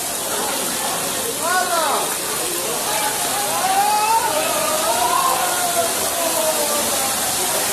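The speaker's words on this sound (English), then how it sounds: "That's water coming off the roof." Rainwater pouring off a roof during a thunderstorm in Mexico, a constant loud hissing rush of water, with faint voices and a few whistling, wavering tones over the noise.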